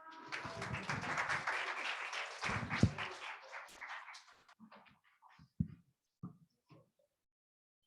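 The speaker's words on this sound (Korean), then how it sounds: "박수 부탁드리겠습니다" Applause from a congregation at a church youth worship service: dense, steady clapping for several seconds that thins into a few scattered claps before stopping.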